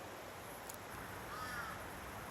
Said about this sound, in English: I don't know whether you can hear the crows, but they're still crowing away there.